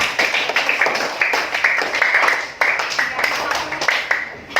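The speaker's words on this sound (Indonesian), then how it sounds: "Kasih tepuk tangan dulu buat yang sudah baca." A primary school class claps for pupils who have just finished reading aloud. Rhythmic, fairly close group clapping continues in steady bursts with a short gap midway.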